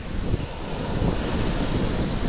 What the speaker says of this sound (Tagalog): malakas pa rin yung alon tsaka hangin